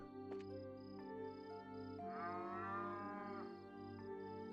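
Cows mooing in the fields of The Legend of Heroes: Trails in the Sky, a single drawn-out low moo rising over a steady game music bed with soft tonal chimes.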